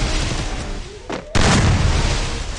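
Gunfire from the Free Fire battle royale game, a close burst of heavy shots and booming impacts ringing out loudly, with a sharp crack near the middle and steady game noise continuing afterward.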